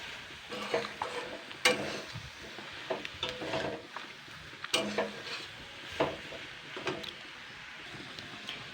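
A spoon stirs and scrapes spinach and mixed vegetables in a dry pan with no oil, giving irregular scuffs and clinks with faint sizzling throughout.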